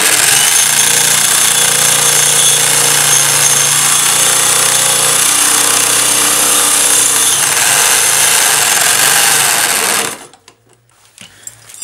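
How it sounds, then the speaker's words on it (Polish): An electric drill spins a Simson SR50 moped engine to crank it, giving a loud, steady, close whirring drone that runs unbroken for about ten seconds and then cuts off abruptly into near silence. "To czas sprawdzić teraz sposób na wiertarkę."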